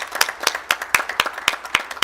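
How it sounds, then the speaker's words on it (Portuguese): An audience at a public debate claps in honour of Nelson Mandela, producing a brief burst of sharp, fairly regular hand claps at moderate volume. "eu gostaria de pedir uma salva de palmas para Nelson Mandela"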